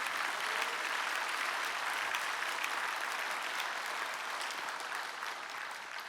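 A large crowd at a national pastors' and elders' prayer meeting applauds steadily throughout, a dense wash of clapping that fades slightly toward the end.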